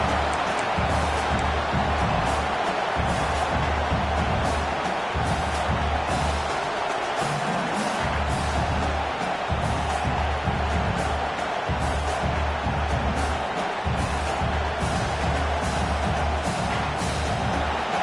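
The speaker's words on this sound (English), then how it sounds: "It's early, but this crowd is fired up. Listen to this noise here." Dense, sustained roar of a packed football stadium crowd at a Nebraska versus Virginia game, steady and loud throughout with a low rumbling undertone and no break.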